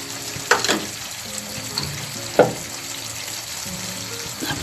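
Pancit noodles with soy sauce sizzle steadily in a pan, a close, even frying hiss with a few sharper clinks and stirring scrapes.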